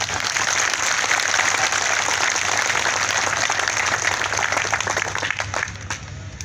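Loud, dense crowd applause at an outdoor BJP political rally in Shadhaura, sustained steadily for several seconds before tapering off near the end.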